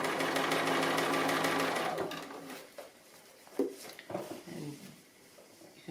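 A sewing machine runs fast and steady for about two seconds while free-motion stitching a small applique, then stops, followed by a few soft handling knocks and fabric shuffles.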